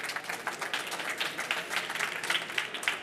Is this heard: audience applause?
yes